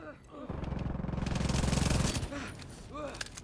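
Explosions in a video game: a rapid rattling burst of blasts lasting about a second and a half, then scattered pops, with game sound effects and voices around it.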